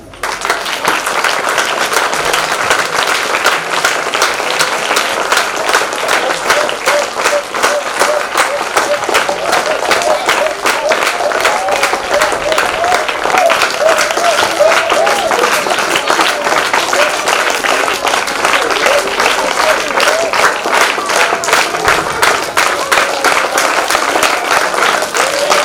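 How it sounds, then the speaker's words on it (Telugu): Students at a school National Science Day event clap in a loud, sustained round of applause that runs evenly throughout, with crowd voices mixed in beneath. "ఒకసారి ఆయనకి స్టూడెంట్స్ అందరు లేచి ఒకసారి బిగ్ క్లాప్స్."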